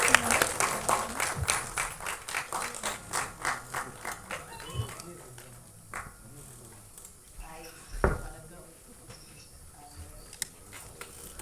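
An audience at an album song screening festival applauds a music director, with clapping that starts fairly full, thins into scattered individual claps, and then trails off among light background noise.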